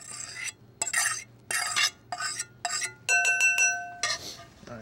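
Crab meat raked and stirred into a chili mayo dressing in a bowl, giving several short wet scraping and clinking bursts of utensil against the dish, close and fairly loud, with brief pauses between strokes and no talk.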